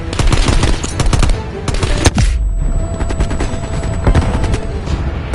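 Sustained automatic gunfire and explosions from a Call of Duty Cold War campaign battle, dense rapid bursts filling the whole stretch with a brief lull before firing resumes, loud and close.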